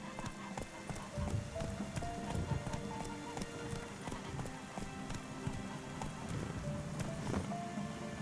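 A horse gallops in The Witcher 3: Wild Hunt, its rapid rhythmic hoofbeats thudding steadily under ambient game sound and faint music.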